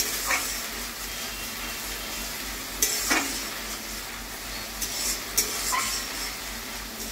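Beaten egg stirred in a pan over a high gas flame, a steady broadband sizzle with scraping stirs and occasional sharp clicks of the utensil against the pan, close and continuous with no talk.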